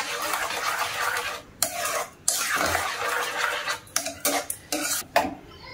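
A spoon scrapes and stirs a cabbage sandesh mixture laced with rose water in a metal pan, close and steady, with gritty rasping strokes broken by several sharp clinks and knocks of utensil against the pan.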